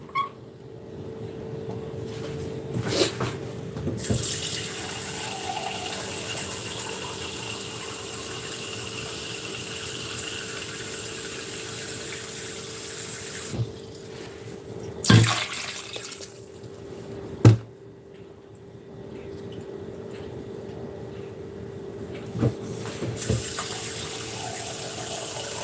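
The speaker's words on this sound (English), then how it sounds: "So I'm going to add more water." Tap water runs steadily into a pot in a home kitchen while moi moi is being prepared, a broad even rush lasting several seconds, broken by a few sharp clunks and knocks of cookware.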